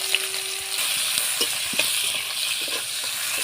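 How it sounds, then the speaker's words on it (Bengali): Chopped onions frying with spices in a wok: a loud, steady hiss of sizzling oil with occasional soft clicks from stirring, close up and free of speech. "এবার পেঁয়াজ কেটে দিয়ে দিচ্ছি"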